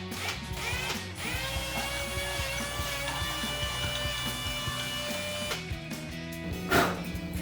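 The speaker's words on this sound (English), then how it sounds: "I just went in there, just kind of drilled, just going circle, clockwise and counterclockwise" Drill boring into a 2015-2023 Mustang spoiler during a wicker bill install, twisted clockwise and counterclockwise to widen the hole; a steady, close motor whine with shifting pitch and a brief sharper bump near the end.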